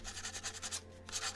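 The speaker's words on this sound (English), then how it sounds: "So quite a bit of sanding here in front of me here tonight." Putty being sanded on a 1:1000 Polar Lights Klingon D7 Battlecruiser plastic model kit, with quick, even rubbing strokes repeating in a steady back-and-forth rhythm, close up and fairly quiet.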